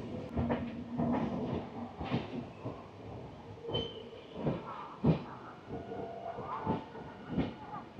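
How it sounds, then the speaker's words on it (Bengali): A train slowing on approach to Kharagpur station rumbles and clatters along with hissing and rhythmic wheel clacks, the steady mechanical noise suggesting a moderate, easing pace. "ট্রেন অলরেডি আপনারা দেখছেন যে স্লো হয়ে গেছে"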